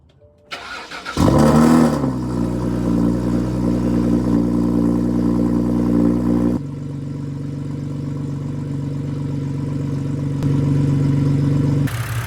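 A BMW 328i engine fitted with aftermarket headers starts with a sharp burst, then settles into a steady, throaty idle that rumbles on, with a brief rise in loudness near the end.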